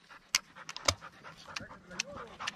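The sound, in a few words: dog panting after retrieving a shot turtle dove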